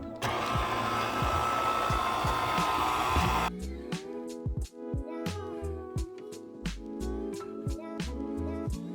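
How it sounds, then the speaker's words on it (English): A mixer kneading gluten-free pizza dough with dry yeast sends out a steady loud motor whine, with a denser, noisier stretch at the start before the tone settles. Sharp knocks and thuds from the bowl keep breaking through. "And we're going to mix this until the dough forms."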